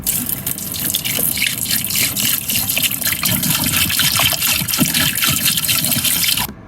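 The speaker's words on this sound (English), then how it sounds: "pouring water out of vessel into drain" Water pours steadily and loudly out of a container into a drain, splashing and gurgling continuously for several seconds before stopping abruptly.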